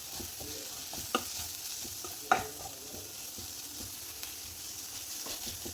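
Chilli powder and coriander powder stirred in a hot pan with kovakka and potato, a soft steady frying hiss broken by a couple of sharp spoon-against-pan clicks.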